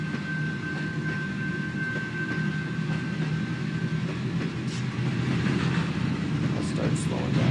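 CSX Q266 northbound autorack freight train on the Saginaw Sub rolling past, a continuous loud rumble with steady wheel and car noise building slightly toward the end, with no voices.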